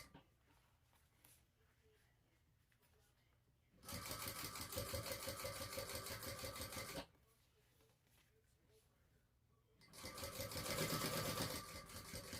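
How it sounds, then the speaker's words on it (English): A sewing machine top stitching the edges of a bag rattles in two loud bursts of a few seconds each, separated by quiet handling noise. "just top stitch those two edges together"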